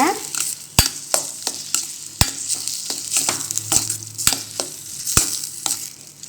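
Amla gooseberry pickle (thokku) cooking over a low flame in a pan after salt is added. A spoon clacks and scrapes irregularly against the pan over a steady close sizzle, with no voices.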